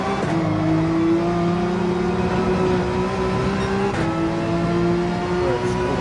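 In Gran Turismo 7 at Maggiore, a race car engine revs hard and climbs in pitch through the gears, a brief shift dip midway, loud and continuous with no talk over it.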